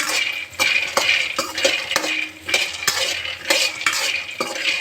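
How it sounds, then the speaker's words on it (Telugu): Peanuts fry on a low flame in a pan for peanut chutney, stirred briskly so that repeated sharp scraping and clinking strokes of a spoon against metal ring out over a faint sizzle, close and loud, no voices. "నేను బాగా శనగకాయ పప్పులు తీసుకొని ఫ్రై చేసుకున్నాను. దూరగా సిమ్లో వేయించుకోవాలండి."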